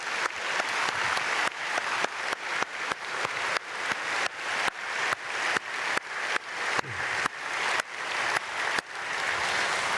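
A church congregation claps in blessing during an early-morning prayer service, loud and dense, broken into repeated bursts with brief pauses between them.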